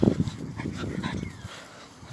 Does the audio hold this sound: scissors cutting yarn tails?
no